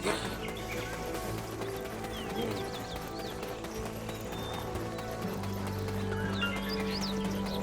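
Rhythmic hoof clip-clops of a horse moving in the video game Black Desert, with a whinny and game-style ambient music underneath; no talking.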